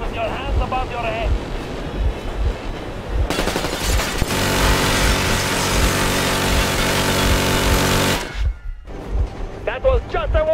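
Warning gunfire in the post-apocalyptic game Metro Exodus: a loud, sustained burst of rapid shots with heavy wind and water noise runs for several seconds, framed by shouted voices before and after.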